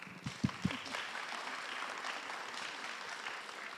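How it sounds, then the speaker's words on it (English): Applause from the audience at a fashion talk event on material sourcing, a few louder claps at the start followed by soft, steady clapping from a modest crowd. "So if you guys can give Mallory a round of applause, please"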